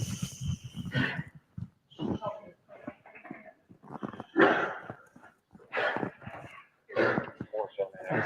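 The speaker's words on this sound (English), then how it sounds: "That dog kind of freaked me out." A dog barks in several loud, close bursts mixed with agitated voices talking over it.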